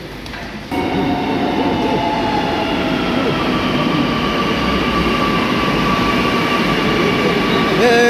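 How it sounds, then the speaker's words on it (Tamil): A metro train rumbles and whines steadily as it pulls in, a loud continuous roar with a brakes squeal near the end. "மெட்ரோ வந்துருச்சு நம்ம இதில் ஏற போகிறோம்"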